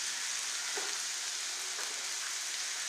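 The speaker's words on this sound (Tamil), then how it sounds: "ரெண்டு பூண்டு போடுங்க" Garlic fries in hot oil in an Indian village kitchen, a steady close hiss of sizzling with faint stirring taps.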